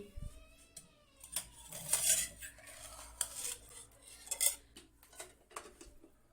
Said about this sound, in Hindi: अब इसमें मैं डालने लगी हूँ घी